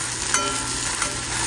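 Food frying in a pan, a close, steady crackling sizzle with faint pops over a low background hum, brief and without voices.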